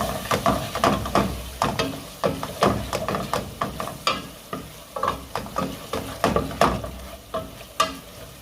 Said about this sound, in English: Give it a quick stir.